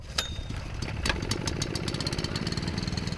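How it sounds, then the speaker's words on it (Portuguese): A small engine-driven water pump motor runs steadily beside a river, a loud close chugging hum with some clattering knocks near the start. "O motor que ele prepara é para levar água do rio até a casa dele nessa mangueira."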